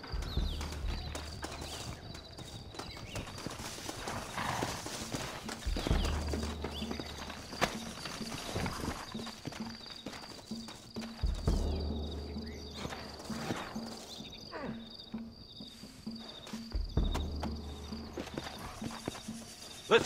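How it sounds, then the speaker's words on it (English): Horse hooves clip-clopping at a steady walking pace in the video game Red Dead Redemption, mixed with rumbling movement and occasional snorts, continuing throughout without speech. "Looks like Carlos left us some horses."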